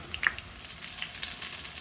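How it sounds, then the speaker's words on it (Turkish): Quiet sizzling of eggplant frying in oil, with a few small pops and crackles at the start, soft and continuous. "Patlıcanlarım güzelce kızarıyor. Kızardıkça da çeviriyorum arkadaşlar."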